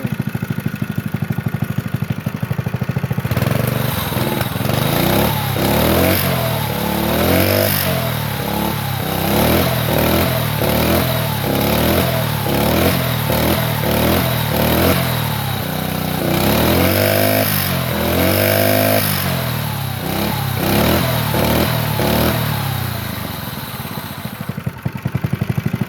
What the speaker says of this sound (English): Let's get some revs in.